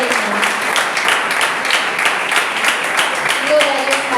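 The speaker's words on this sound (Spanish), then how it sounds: "Aplaude al Eterno." A church congregation at a Sunday Bible school service gives sustained applause, a dense steady clapping, while voices call out over it.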